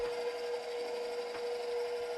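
An electric stand mixer runs on a medium-low setting while mixing a yeast dough, giving a steady whirring motor whine with a constant pitch throughout, no one speaking.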